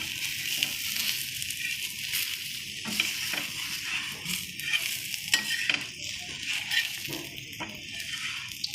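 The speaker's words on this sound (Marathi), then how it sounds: "कड्याने थोडं थोडंसं तेल घालून पलटावायचं आहे" Besan poli, a gram-flour flatbread, fries in oil on a pan with a close, bright, steady sizzle and crackle. Intermittent scraping of a spatula breaks through the sizzle.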